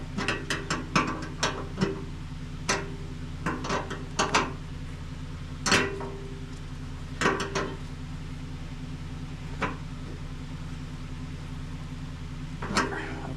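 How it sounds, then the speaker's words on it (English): Ratchet tightening a jam nut on a small generator's fuel tank valve, heard as short clusters of sharp clicking strokes with pauses between them, close and crisp over a low steady hum. "Now we'll tighten the jam nut."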